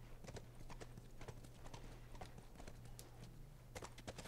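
Horse hooves clip-clop steadily in The Last of Us video game, a faint, regular walking rhythm over a low background hum.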